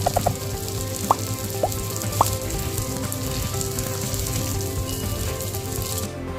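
Surmai fish sizzles steadily as it fries on a tawa, a dense continuous crackle with a few soft plops and stirring touches near the start.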